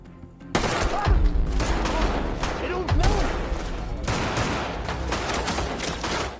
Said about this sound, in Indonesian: melepaskan tembakan untuk menghentikan mereka